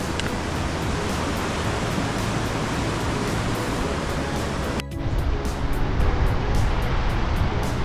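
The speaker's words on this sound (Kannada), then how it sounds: "ನದಿನೂ ಹರಿತಾ ಇದೆ." A mountain river on a high-altitude Himalayan trek rushes in a steady, loud, broadband roar of flowing water, continuous and close, with a brief dip before the torrent resumes.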